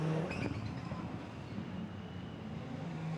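A Volkswagen Scirocco rallycross supercar at Lydden Hill, its engine a rough, loud drone heard at a distance across the circuit, with a brief rise near the start before holding steady.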